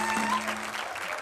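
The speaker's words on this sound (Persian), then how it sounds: "یه تشویق ویژه جناب آقای حامد آهنگی رو" An audience claps steadily for Hamed Ahangi on a Persian music show, a continuous close wash of applause with a faint tonal hum underneath.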